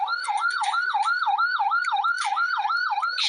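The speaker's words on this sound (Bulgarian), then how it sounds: "Чуваме и сирени." A fire truck's emergency siren wails in a fast, regular up-and-down sweep, loud and close, repeating steadily for the whole stretch with no talk over it.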